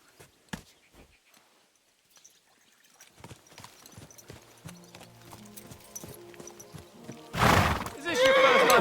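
A horse clip-clops and then neighs in the medieval video game Kingdom Come: Deliverance II, with faint hoofbeats early and a loud whinny near the end, mixed with game sounds and a voice.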